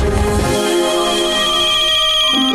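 A mobile phone ringtone plays loudly and close by in a tense Hindi crime drama scene, a bright melodic tone with sustained notes and no voices over it.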